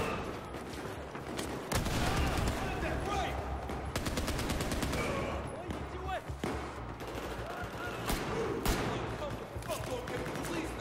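Battlefield 4 campaign combat in Shanghai with dense, sustained suppressing gunfire: rapid automatic bursts and overlapping shots, some distant, others close and sharp, over a continuous battle din, with someone talking over the action.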